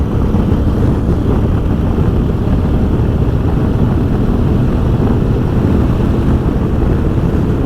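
A 2021 Honda X-ADV scooter-style motorcycle riding in fifth gear sport mode, a loud continuous engine drone buried in heavy wind rush against the microphone, steady throughout.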